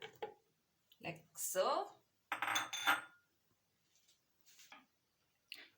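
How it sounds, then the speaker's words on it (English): Carrot pieces for a cucumber-ginger juice dropped into a blender jar, a few close clattering knocks and hard taps against the container between short bursts of someone talking. "Put the carrots in the blender,"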